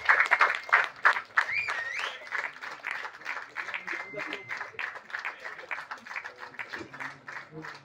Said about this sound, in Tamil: பயங்கரமா கிளாப் பண்ணலாம் அவருக்கு.